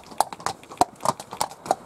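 Horse hooves clip-clopping at a steady walking rhythm on an outdoor ride through the Burren in Ireland, each strike close and distinct, about six evenly spaced beats with no talking.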